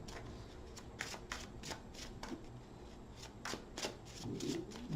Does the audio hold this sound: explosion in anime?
no